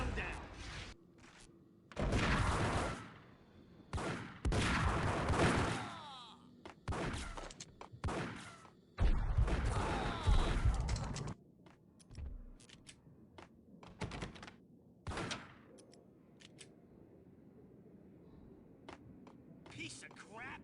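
Rapid bursts of gunfire from the video game Max Payne, loud and clustered in several volleys, with quieter gaps and scattered single shots between them.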